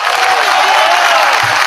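Audience applause in a crowded hall, a dense steady wash of clapping with a few cheers, loud and continuous throughout with a brief low thump near the end.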